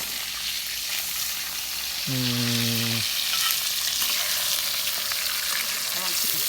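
Crab stir-frying in a pan with curry powder and beaten egg, a steady close sizzle throughout with a short tonal beep partway through and light scraping at the end.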